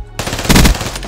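HLX-4 gunfire in a Call of Duty multiplayer match, a rapid burst of automatic shots that swells louder in the middle, continuous for about a second with no pauses.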